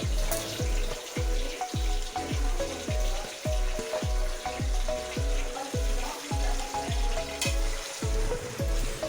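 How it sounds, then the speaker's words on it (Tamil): Sliced onions sautéing in oil in a pan while making Eid mutton biryani, a steady close sizzle with repeated rhythmic scraping strokes as they are stirred. "வெங்காயம் வந்து நல்லா வதக்கி எடுத்துக்கலாம்."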